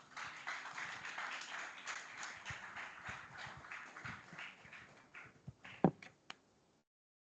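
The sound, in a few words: audience applause welcoming guest of honor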